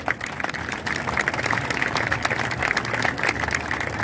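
An audience at an outdoor fashion show in Imperia claps in a steady, sustained round of applause that holds evenly for several seconds.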